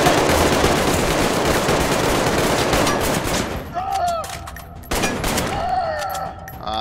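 Heavy automatic gunfire from the VR game Arktika.1, against armored soldiers: dense, loud sustained shooting for several seconds, then cut off into a few scattered shots and ringing ricochet-like tones.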